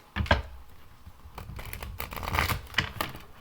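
Tarot cards are shuffled by hand, giving soft riffling and clicking bursts close to the microphone with no talking.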